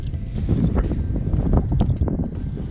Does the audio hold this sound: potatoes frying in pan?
no